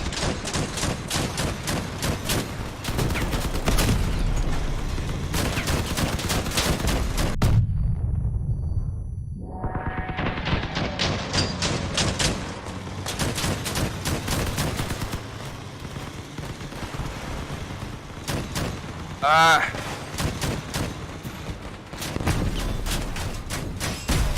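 Rapid bursts of automatic gunfire and cannon shots from the Crossout vehicle combat game, loud and dense, broken by a brief quieter lull in the middle before the firing resumes.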